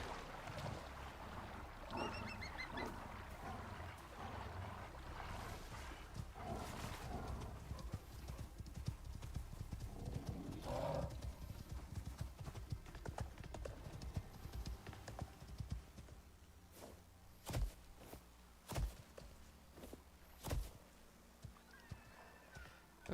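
Horse hooves clip-clop steadily in the Icarus survival video game, a continuous close rhythm of hoof falls with occasional whinnies and splashing water, thinning out toward the end into a few isolated louder knocks.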